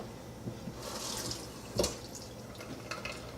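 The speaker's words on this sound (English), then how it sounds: "maybe just put just a dash of water in it" Water from a tap splashes into a pan of berries warming on low heat, a steady running trickle with a brighter splash partway through, close and moderately loud with no talking.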